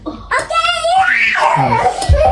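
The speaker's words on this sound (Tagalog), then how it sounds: "Grabe, ang ingay talaga ng mga bata tong dalawa." Two young children shout and shriek noisily while playing indoors, with high, loud, excited squeals that rise and fall over a couple of seconds.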